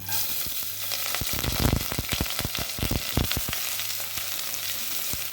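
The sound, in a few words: onions frying in oil with dried chilli and curry leaves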